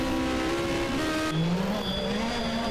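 Huart's race car crosses the finish line at the Col St. Pierre hill climb with a loud, close engine roar whose pitch drops sharply midway as it passes, then settles into a lower steady drone.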